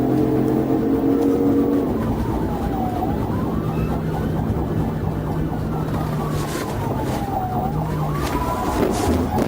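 A police car siren wails during a pursuit of a fleeing vehicle, its rising and falling tone sweeping slowly over loud, steady road and traffic noise.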